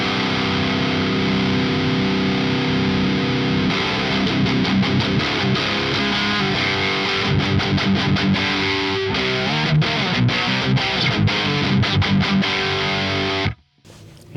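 High-gain electric guitar played through an Evil Chunk amp with the Schu-Tone Luna Obscura pedal bypassed, heavy distorted chugging riffs and sustained chords, loud and continuous, cutting off abruptly near the end.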